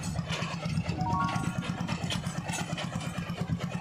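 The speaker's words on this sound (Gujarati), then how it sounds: "આ સિનેડો અસલ તમારે મિની ટ્રેક્ટર જ માની લેવાનું" A mini tractor engine runs close by in a cotton field at a steady, throbbing idle, its low rhythmic chug continuing without pause.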